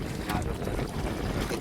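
Wind and rushing water surround a boat, a steady, rough wash of ocean noise with gusts buffeting the microphone throughout.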